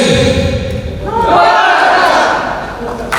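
A small audience at a leadership training event shouts a loud collective greeting in reply, a burst of many voices at close range that swells and holds for a few seconds.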